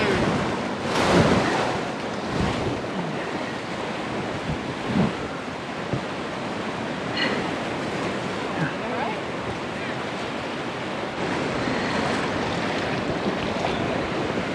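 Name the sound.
frothy whitewater rapids on the Upper Gauley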